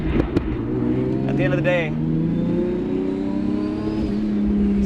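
A 1999 Nissan Skyline GT-R R34 V-Spec engine rises and falls through revs at about half throttle, loud and close, with someone talking over part of it.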